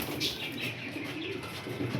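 Parwazi racing pigeons of Pipla and Kajal breeds coo in soft, continuous rolling calls, heard close and steady with a few light chirps mixed in and no talking.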